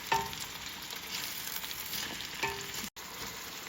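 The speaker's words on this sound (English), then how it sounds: "So I'm gonna saute the onions until they're translucent and getting soft." Onions sautéing in a pan make a steady, close frying sizzle that stays even throughout, with a couple of light stirring clicks and one brief dropout near the end.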